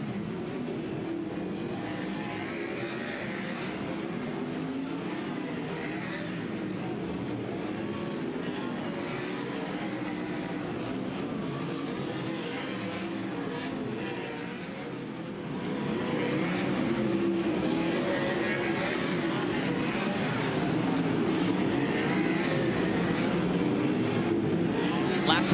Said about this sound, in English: Cars are getting underway right now for the first Dirt Draft Hot Lap session of the night